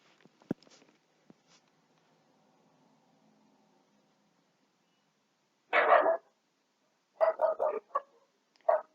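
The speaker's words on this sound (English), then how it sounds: "I'm sorry if you're hearing the dogs barking." Dogs bark in short bursts, first one loud outburst and then a quick cluster of barks, somewhat distant, after a quiet stretch with faint taps.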